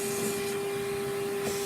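A Henry vacuum cleaner sucks up debris from under a bed, a steady whining drone with a strong constant hum and airy hiss, close and continuous throughout, with no talking.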